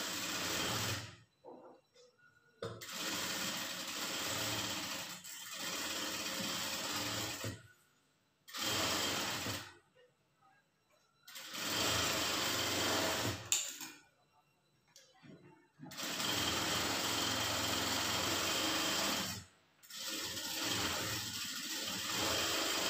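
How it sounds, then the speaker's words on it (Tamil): A sewing machine runs a half-inch seam along a blouse shoulder in long continuous stretches of fast stitching whir, stopping briefly between runs, up close and steady. "ஷோல்டர் நேர் வந்து கரெக்டாக வச்சுட்டு அரை இன்ச் அளவுக்கு தையல் போட்டுக்குங்க."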